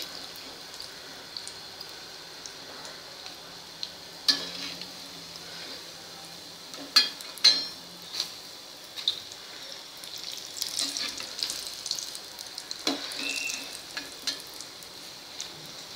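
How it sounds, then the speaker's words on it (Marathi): Batata vada deep-frying in hot oil with oil being splashed over the tops, giving a steady soft sizzle with scattered clicks and light scraping knocks, fairly quiet and unvoiced. "वड्यांवर तेल उडवायचं आहे, जेणेकरून वरच्या साईडने पण ते छान होतात."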